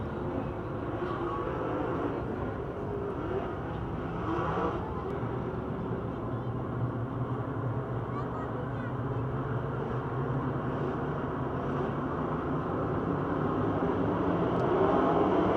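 Race cars at Pennsylvania Motor Speedway in Pittsburgh, a continuous roar of many engines heard from a distance, fairly faint and droning, swelling a little toward the end.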